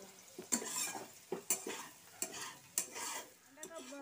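Potatoes frying in a pan at home while making egg chowmein, with repeated scraping stirs and utensil clinks over a soft sizzle, the strokes coming in irregular bursts about every second.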